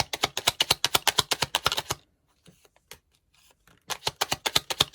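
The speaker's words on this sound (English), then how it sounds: "if this shuffling bothers you, please turn down your volume because I can't do anything about it" Tarot cards are shuffled in quick rhythmic bursts of crisp riffling clicks, close and loud, with a quiet pause in the middle before another burst.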